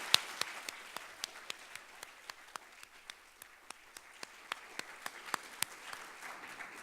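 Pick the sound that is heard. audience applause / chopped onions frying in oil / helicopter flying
audience applause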